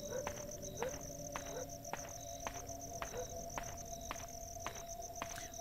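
Autumn outdoor ambience in the video game Crow Country: a steady high cricket trill runs throughout, with evenly spaced, repeating clicks and chirps layered over a soft low background hum.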